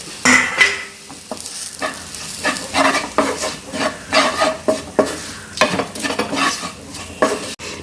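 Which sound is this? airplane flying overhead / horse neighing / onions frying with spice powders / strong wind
onions frying with spice powders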